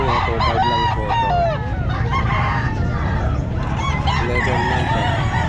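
Roosters crow repeatedly among clucking fowl at the Calumpit pet market, loud and close, with overlapping calls over a steady crowd and market din.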